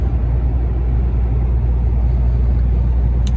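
Steady low engine and road rumble from inside a vehicle driving toward Mykolaiv, loud and constant with no pauses and no voices.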